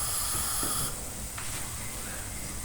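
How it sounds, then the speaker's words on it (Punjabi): Milk boiling in a pan for milk cake gives a steady close hiss and gentle bubbling, continuous throughout without talk. "ਲੋ ਜੀ ਦੁੱਧ ਰਿੱਝਣ ਲੱਗ ਗਿਆ"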